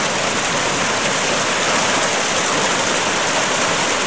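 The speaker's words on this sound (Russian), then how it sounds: "а это такой небольшой своеобразный водопад" A small waterfall on a mountain stream near Calvi, Corsica, pours in a steady, loud, close hiss of rushing water. It stays even throughout, with no voices.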